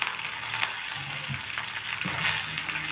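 Urad dal, three dried red chilies and curry leaves frying in hot oil for a Tamil sundal tempering, giving a steady close sizzle with faint crackles and no talking.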